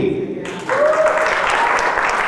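Cruise audience at a comedy roast applauding to vote for an answer, clapping that starts partway through after a brief moment of voice and tones and then holds steady and fairly loud.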